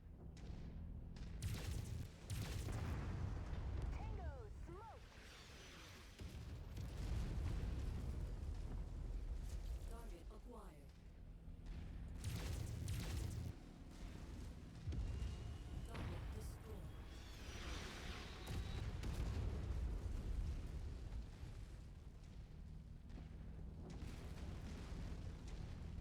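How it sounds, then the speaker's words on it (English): Artillery shells burst across a battlefield in the mech combat game MechWarrior 5, with repeated deep booms and rumbling blasts rolling loudly throughout, mixed with game noise and a player talking over it. "I hate artillery in this game."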